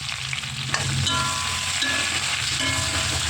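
Onion and green chili frying in hot oil in a kadai for chicken kurma, a steady close sizzle running throughout with occasional stirring scrapes, no voices.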